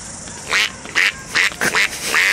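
A person imitates a duck, giving four or five loud, nasal quacks in an uneven rhythm, close and alone.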